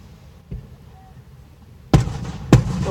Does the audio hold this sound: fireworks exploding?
yes